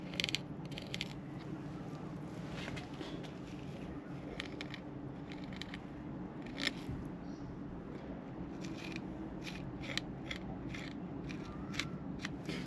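A sharp knife cutting a fish fillet along the pin bones, with repeated small crisp snips and scrapes over a steady background hiss, close and quiet.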